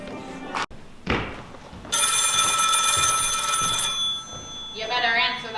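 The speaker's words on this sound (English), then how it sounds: "You better answer that phone" An old telephone bell rings once in a long, bright continuous burst, preceded by a few thumps and followed by a voice speaking nearby.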